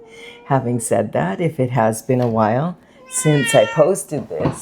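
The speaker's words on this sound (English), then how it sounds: "Sorry, that's my cat," A domestic cat meows indoors, its cries cutting in briefly between stretches of a person talking close to the microphone.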